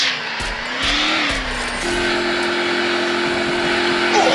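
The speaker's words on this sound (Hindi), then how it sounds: "अभी बाइक उठ के इधर जाऊंगा" A motorbike ridden in the video game Free Fire hums with a steady engine tone that bends in pitch and then settles, under a layer of game sound effects, with no talk.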